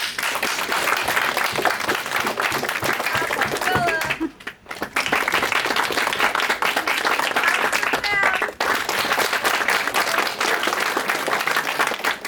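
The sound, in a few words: audience clapping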